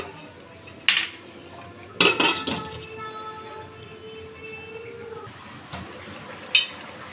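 Prawns and spices are stirred into pulao in a metal pot, a few sharp clanks and scrapes of a spoon against the pot with a ringing tone between them, close and otherwise quiet, no talking.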